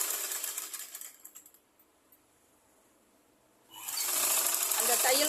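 A sewing machine stitches over a seam in quick, close mechanical bursts, running for about a second, stopping, then starting again loudly; a voice speaks during the pause.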